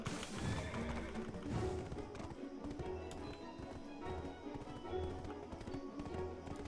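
A horse's hooves tap out a quick clip-clop in the game Black Desert Online, mixed with the game's background music and effects and no clear voices.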